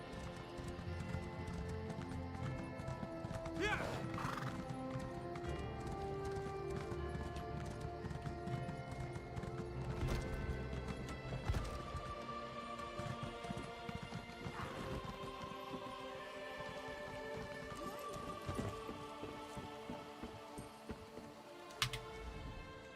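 Horse hooves clip-clop steadily in the video game Elder Scrolls Online, a continuous trotting rhythm layered over busy in-game ambience and occasional clatter.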